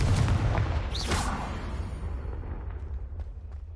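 Confringo blasting spell explosion in Hogwarts Legacy, a loud booming burst at the start that rolls off into a long fading rumble.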